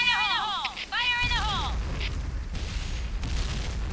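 A grenade detonating in the online shooter Point Blank, a heavy, rumbling blast that follows a brief whistling tone, while a player talks over the noise.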